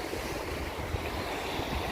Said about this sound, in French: Parce que la mer en plus elle est déchaînée la mer, mais un truc de malade.